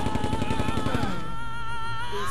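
Rapid automatic gunfire from the World War II tactics video game Silent Storm, a dense burst of loud repeated shots for about a second, then fading into echoing tails and game background sounds.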